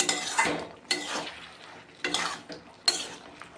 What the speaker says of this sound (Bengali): ঘিটা দিয়েও আমি আরও একবার নাড়াচাড়া করিয়ে ফুটিয়ে নেবো ভালোভাবে গ্যাসের জালটা একদমই হাইতে রেখে ফুটিয়ে নিচ্ছি